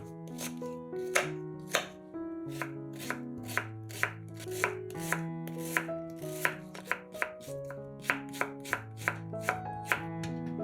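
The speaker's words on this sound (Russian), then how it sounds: "1-2 луковицы нарезаем кубиками." Onions being diced into cubes on a cutting board, a steady run of crisp knife chops, close and clear, with no talking and over a quiet bed of music.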